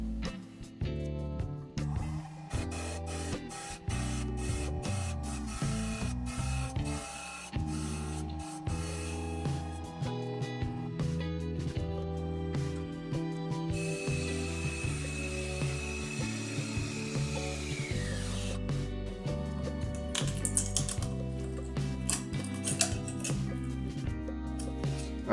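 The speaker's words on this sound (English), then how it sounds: "Then I'm going to use a parting tool just to take out a disc from the inside. I'll turn it 1000 RPM to do that." A parting tool cuts a disc from the inside of a cherry and walnut bowl spinning on a wood lathe at 1000 RPM, producing a steady, dense whirring drone with scraping cutting noise and a high ringing tone partway through.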